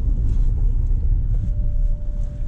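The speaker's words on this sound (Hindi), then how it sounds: "बर्न आउट मार रही है कार." A Mahindra Scorpio N petrol SUV does a burnout, with a loud, close low engine rumble and tire roar that holds steady and then carries on with a faint high whine near the end.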